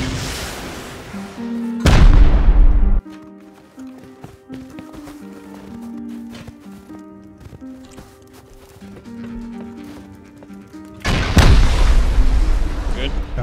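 Gunfire in the survival game Rust, with two loud bursts at the start and near the end and quieter rattling and movement in between.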